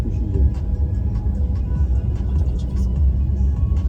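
Electric car driving out of Oslo, heard from inside as a steady low road rumble and tire hum with faint clicks and rattles, continuous and fairly loud.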